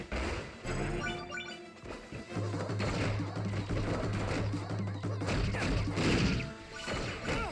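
A grenade explodes in the Kid Icarus: Uprising video game, a loud crash within a dense wash of crunching impacts and continuous game sound, with a voice talking briefly over it.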